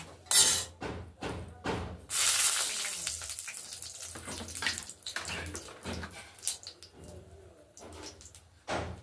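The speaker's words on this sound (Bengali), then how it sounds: "এবার তেলটা গরম হয়ে গেছে, এর মধ্যে গরম মশলা, দারচিনি, একটা তেজপাতা ফাটিয়ে দিচ্ছি।" Garam masala, cinnamon and a bay leaf crackle and spit in hot oil for a Bengali dudh potol dish, with sharp, irregular bursts of sizzling and popping close by throughout.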